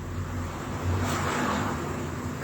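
Cars pass outside, a soft continuous road rumble with a gentle swell as one vehicle goes by, heard at a distance without any talk.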